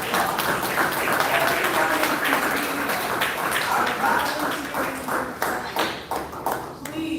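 Applause from residents at a town meeting on a solar panel presentation, a dense steady patter of clapping that thins toward the end, with voices mixed in.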